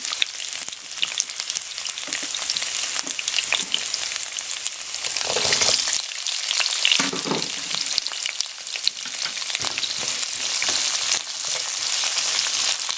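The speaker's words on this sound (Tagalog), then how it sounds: "So, medyo lutuin lang natin itong onion." Onion frying in a pan for ginataang squash and string beans with shrimp, a loud continuous sizzle and crackle up close, with occasional stirring scrapes, no one speaking.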